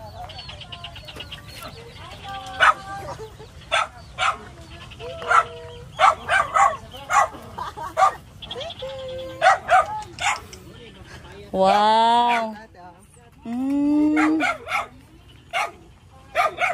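A dog barks repeatedly in sharp, loud bursts at an outdoor fishpond farm, mixed with chickens clucking and a rooster crowing, while people talk nearby.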